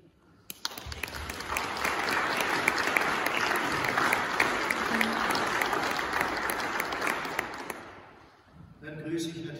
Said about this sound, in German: Es hat, glaube ich, auch einen kleinen Applaus verdient.